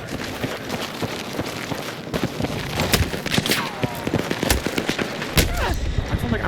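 Long-range sniper fire in Battlefield 6: repeated sharp gunshots crack out across a busy, noisy battle soundscape, some shots loud and near, others more distant, with steady background rumble throughout.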